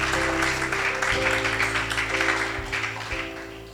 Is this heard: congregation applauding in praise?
yes